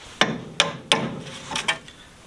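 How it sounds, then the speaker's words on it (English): Hammer blows knock a tie rod end out of a heated MGB steering arm: five or six sharp, close metallic strikes at an uneven pace, with no talking. "then you just push up, hit this bit down, and it just comes out"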